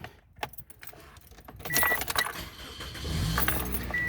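Keys jangle, then a car engine cranks and starts, settling into a steady running idle close by.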